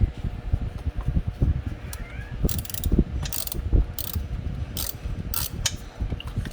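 Ratchet wrench tightening the bolts on an engine manifold during reassembly: close, repeated bursts of ratcheting clicks in short runs over a low mechanical background, with no talk.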